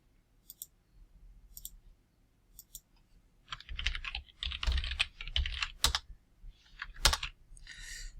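Typing on a computer keyboard: a few light isolated taps, then a busy stretch of close, clattering keystrokes in quick uneven bursts with no talking.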